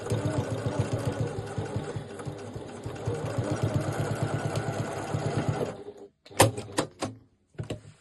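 Sewing machine running steadily while stitching a zip pocket on a crossbody bag, a dense mechanical whir lasting several seconds and then stopping, followed by a few short clicks and knocks.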